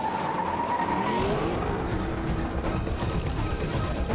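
A car in a film scene, driven by a remote driving system, speeds along with squealing, skidding tires over loud, continuous engine roar and road noise.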